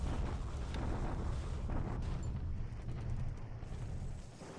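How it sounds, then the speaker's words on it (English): Naval bombardment of Singapore in the strategy game War in the Pacific: a dense, continuous rumble of explosions and heavy gunfire that stays loud and steady before easing slightly at the end. "this is us bombarding at Singapore."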